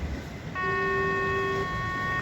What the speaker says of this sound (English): you could hear that foghorn going off maybe.